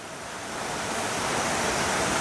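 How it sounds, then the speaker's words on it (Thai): Cool forest stream flowing steadily at Ban Phadi in Phop Phra district, Tak, Thailand; a continuous, full broadband rush of water that swells slightly at the start and then holds steady, with no voices. "ลำธารก็ไหลเย็นสบายค่ะ"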